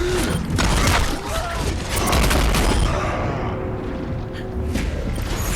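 Junkrat's bombs go off repeatedly in an Overwatch match, a dense run of sharp blasts and rattling impacts over continuous game noise, loud and close throughout.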